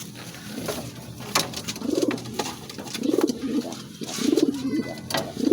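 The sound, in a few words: pigeons cooing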